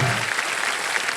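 Studio audience clapping loudly at a TV game show (Wheel of Fortune), a dense burst of applause filling the short moment.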